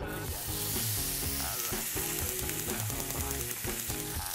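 Meat sizzles and fries steadily in a lightly oiled pan alongside cabbage and sauce, a continuous close crackle with clinking utensils and stirring over it.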